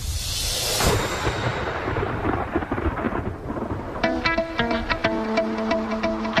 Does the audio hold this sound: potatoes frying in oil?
no